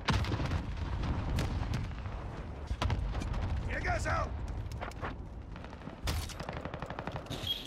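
A frag grenade goes off amid Call of Duty Warzone combat, a loud broadband blast landing near the end over continuous gunfire, explosions and game chatter.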